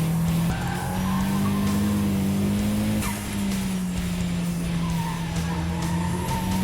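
A car slides sideways on a track with tires squealing in a long, continuous howl over a strained engine note, loud and close, briefly dipping midway before the squeal resumes.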